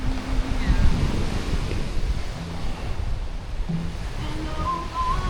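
Ocean waves wash continuously near a resort seating area in Phu Quoc, Vietnam, a steady broadband surf mixed with wind buffeting the microphone, with no clear voices.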